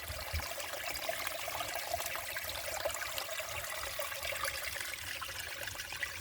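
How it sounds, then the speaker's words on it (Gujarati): Small streams of water trickle and flow steadily along a path, a continuous close hiss with no voices. "આ રસ્તામાં નાના નાના ઝરણાઓ છે આ પાણી વહે છે તમે અવાજ સાંભળી શકો છો"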